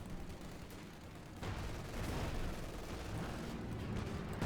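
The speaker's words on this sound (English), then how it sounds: "Sturmpanzer versus double anti-tank gun. One shot pierces, the other bounce or miss." Anti-tank guns firing at a Sturmpanzer in Company of Heroes 2, loud heavy battlefield shots and rumbling blasts that jump sharply in level, set against continuous gunfire and explosion noise.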